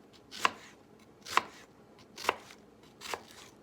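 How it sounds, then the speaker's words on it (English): A knife cuts through an onion on a cutting board in four crisp, evenly spaced chops, close and clear against a quiet kitchen background. "then you're going to make small cuts in the onion"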